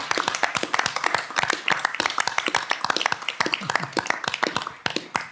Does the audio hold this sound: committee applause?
yes